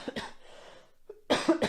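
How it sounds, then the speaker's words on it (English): A single short cough cuts into a man's podcast chat about football, close and fairly loud, with speech before and after it. "Excuse me, I had a cough right there."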